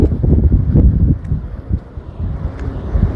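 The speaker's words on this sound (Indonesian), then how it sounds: "anginnya sangat kencang sekali, teman-teman, karena memang kita lagi berada di ketinggian" Strong gusty wind buffets the microphone at a hilltop former Portuguese fort, loud uneven rumbling surges that rise and fall throughout.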